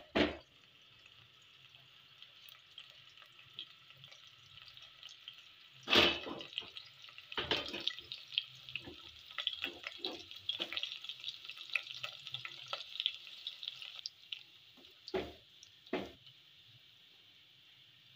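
Food frying in a pan for chicken kadahi until it turns golden, a soft sizzle running underneath several sharp clanks and scraping bursts from stirring, with no speech.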